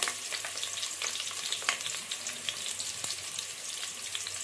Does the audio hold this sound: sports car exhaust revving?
no